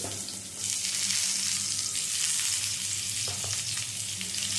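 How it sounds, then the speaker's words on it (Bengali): Pieces of pointed gourd sizzle in hot mustard oil, a dense and continuous frying hiss close to the pan, with faint stirring and nobody speaking. "এবারে এই তেলের মধ্যে পটলগুলো দিয়ে দিচ্ছি।"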